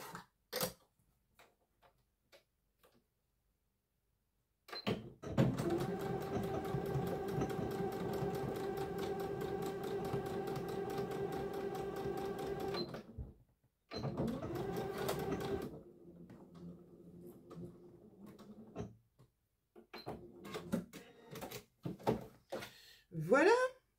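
A sewing machine stitches darts and pleats in a home sewing session. A steady, close mechanical whir runs for several seconds, stops briefly, then starts again, framed by quieter handling sounds and soft talk.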